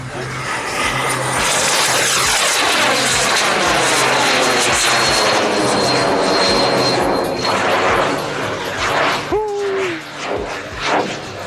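A model jet plane at an RC event roars loudly overhead in a sustained, whooshing pass that rises and fades, with a brief voice near the end.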